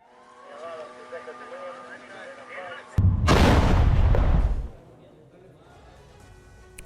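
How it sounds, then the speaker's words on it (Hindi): IDF artillery cannons fire in northern Gaza: one loud, heavy blast booms and rumbles for about a second and a half, then fades, after quieter background sound with faint voices. "आईडीएफ की तोपों ने उगली है आग"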